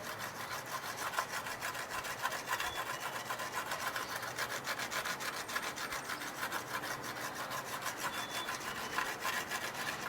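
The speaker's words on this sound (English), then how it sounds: "I can kind of get rid of some of the pits through burnishing. So this is forcing the grains back down in there." Steady, rhythmic rubbing strokes continue without pause as a clay coil pot is burnished to press its grains down. The scraping is close and fairly quiet, with no voices.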